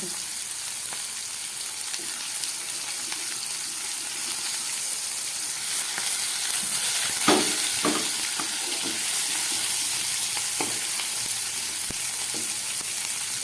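Black pepper, cardamom, cloves and cinnamon fry in hot oil in a pan, a loud continuous sizzle with scattered utensil scrapes and taps throughout, no voices present.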